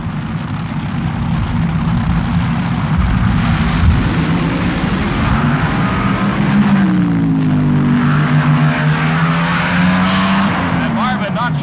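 A 1978 NHRA Gatornationals drag racing car making a single qualifying run, a loud sustained engine roar whose pitch sweeps and shifts as it accelerates down the strip, with an announcer-like voice faintly mixed underneath.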